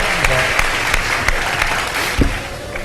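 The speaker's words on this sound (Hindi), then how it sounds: "मोहम्मद अली साहब के लिए बहुत सारी तालियां" A television studio audience at a Ramadan iftar show gives loud, continuous applause for the boxer Muhammad Ali. The dense clapping runs throughout, with a few louder individual claps standing out.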